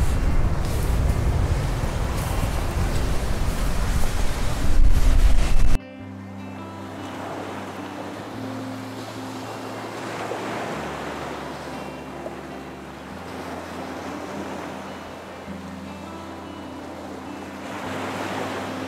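Waves washing onto a UK beach at dawn in a breeze, loud wind buffeting the microphone at first, then a steady roar of surf with a low hum underneath.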